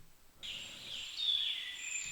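Bird chirping effect layered into a remix, a thin high twittering that comes in after a short quiet start and carries on softly to the end.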